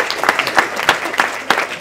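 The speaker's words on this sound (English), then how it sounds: "Let's have a great big round of applause for Steve's glittering rugby career." Wedding guests clapping at a reception, a short burst of scattered, uneven handclaps from a small group, fairly close and loud, with no voices over it.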